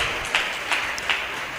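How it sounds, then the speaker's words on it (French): A church congregation clapping in unison for the Lord, giving a few rhythmic, evenly spaced claps over a steady background hum. "Let's clap for the Lord."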